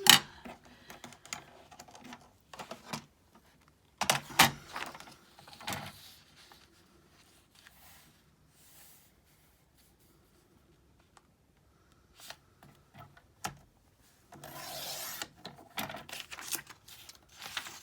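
A paper trimmer with a slightly dull blade slices through a folded page, producing a few sharp scraping and sliding bursts separated by quiet stretches, with a longer rasping cut near the end.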